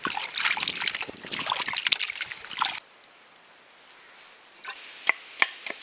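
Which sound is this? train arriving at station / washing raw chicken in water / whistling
washing raw chicken in water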